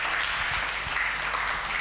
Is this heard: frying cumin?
no